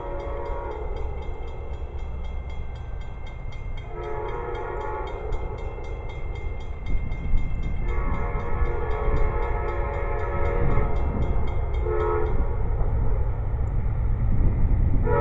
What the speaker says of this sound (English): Amtrak train to Silver Star